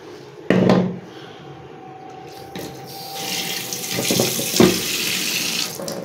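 Tap water runs into a sink to soak a block of frozen fish roe, a steady close splashing stream opening with a brief knock and growing fuller toward the end.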